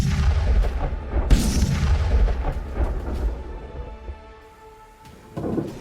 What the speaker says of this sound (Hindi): आसमान से गिरते गोलों से पूरा इलाका दहल रहा है।